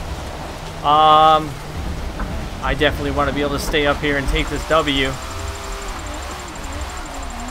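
Rain falling on the Maple Valley circuit in Forza Motorsport 7, a steady hiss of rainfall under a car engine, with someone talking over it throughout.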